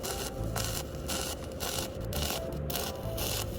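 A steady buzzing, crackling hum from a pulse welding machine, current cycling between 100 and 20 amps, in a regular rhythmic pulse, with the tone rising and dropping several times a second.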